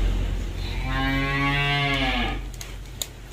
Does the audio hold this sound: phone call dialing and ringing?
no